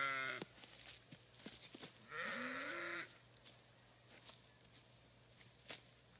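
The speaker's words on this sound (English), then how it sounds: "Come on, sheep." Sheep bleating: several loud, close, wavering bleats, one long drawn-out call in the middle, alone over a quiet outdoor background with light footsteps.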